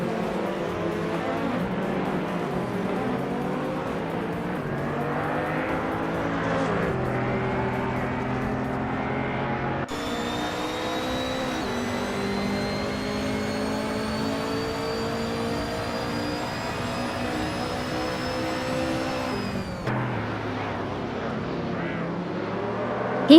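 Racing video game engine, a 2015 Mercedes-Benz F45 AMG, droning steadily with harmonic tones that rise and shift through gear changes, loud and continuous with no talk over it.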